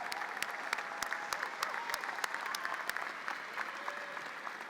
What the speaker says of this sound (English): a hearty round of applause for our new PhD and EDD